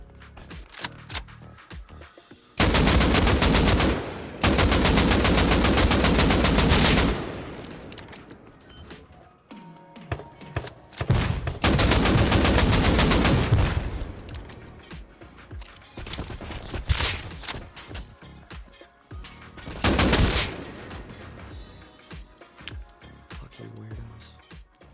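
Bursts of M2 rifle fire in the video game Rust, with loud sustained rapid volleys repeating several times between quieter stretches and scattered single shots, and a voice talking in places.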